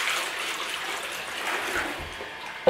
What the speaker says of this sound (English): so we'll fill it up a little bit more water